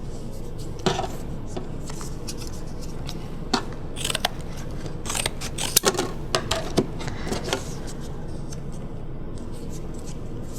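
Scissors snip through sheets of Worbla thermoplastic for costume making, with irregular crisp cuts scattered across a steady room hum and no speech.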